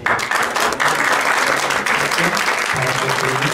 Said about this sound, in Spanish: vamos a darles un aplauso